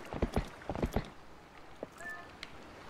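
Horse hooves clip-clop in Zelda: Twilight Princess, a quick run of paired hoof strikes up front that thins into a few scattered steps, with a brief chime-like game tone partway through.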